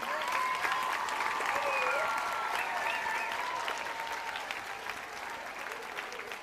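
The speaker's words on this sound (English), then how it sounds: "Give a round of applause again." A school assembly audience applauds after an anti-bullying presentation, a broad wash of clapping at moderate distance that slowly fades, with faint voices and a tone over it.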